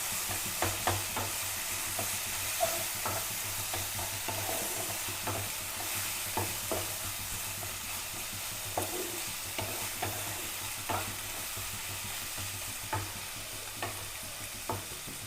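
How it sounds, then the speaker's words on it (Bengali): Spice masala frying with onion and garlic in a pan, a steady soft sizzle with scattered clicks and scrapes of stirring throughout, close and moderately quiet with no talking. "মশলাটা তো এখানে ভাজা হচ্ছে"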